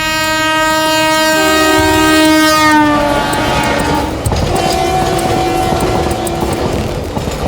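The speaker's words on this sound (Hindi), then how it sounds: "ये हमारी मालगाड़ी की रेल है साहब" A freight train on a broadgauge railway line sounds a long, loud horn, then rumbles and clatters steadily past close by.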